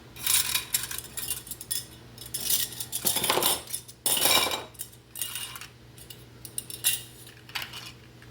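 Metal canning jar lids and rings clink and jangle in a bowl, bright close metallic rattles in uneven bursts with brief pauses between handfuls.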